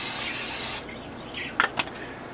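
Canola oil cooking spray hisses steadily into a meatloaf pan for under a second, followed by faint rubbing and handling sounds close by.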